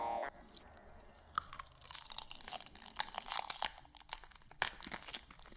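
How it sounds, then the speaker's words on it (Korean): Crisp snack eaten up close, with dense crunching, chewing and crinkling bites coming in quick bursts, alone with no talk. "이런 바삭바삭 소리 좋았고"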